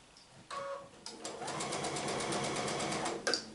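A sewing machine stitches quilt block pieces in a quick, even run after a couple of short starts. The motor hums with a fast rhythmic needle beat at close range, and there is no talking.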